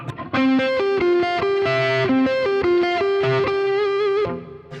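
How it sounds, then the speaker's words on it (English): A Gibson Custom Shop 335 electric guitar on its neck pickup plays a loud, sustained run of clear single notes, each one ringing into the next with no talking over it. "should we do the classic neck pickup Gibson ting?"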